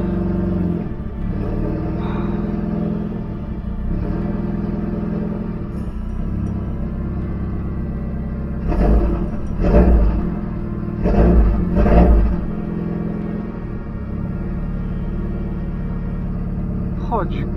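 A Renault Megane RS engine cranks and starts, then settles into a steady idle rumble with a few brief revs, while someone speaks nearby.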